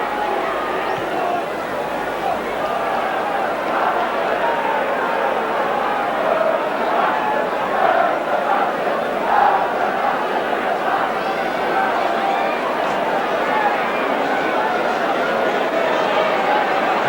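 A rugby league stadium crowd at a Wigan versus Leeds match swells in a broad continuous roar and murmur, distant and steady, with a commentator's voice running over it.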